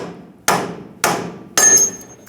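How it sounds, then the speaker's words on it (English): Three sharp metal hammer blows on a pickle fork, driving the tie rod ball joint out of its socket on a 1992-1996 Ford F-150, evenly spaced, close and loud, each ringing briefly. "we're going to use a pickle fork to drive out that ball joint end"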